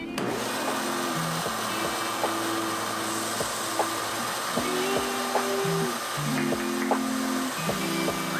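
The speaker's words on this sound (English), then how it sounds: "So I'm gonna drill, and you're gonna need to hold that vacuum right there to try to just suck all the metal" A power drill bores into metal on a transmission flange while a vacuum cleaner runs close by to suck up the shavings, the steady hiss of suction under repeated whining bursts of the drill starting and stopping.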